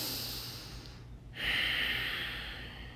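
A single slow breath during a gentle yoga twist: a soft exhale, a brief quiet pause, then a clearer airy inhale or sigh, close and faint with no talking.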